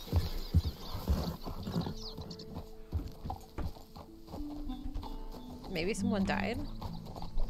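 Horse hooves clip-clop in the Red Dead Redemption 2 video game alongside a neigh or whinny, with irregular hoofbeats heard under game sounds while people talk throughout.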